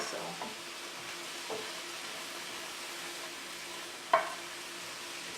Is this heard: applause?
no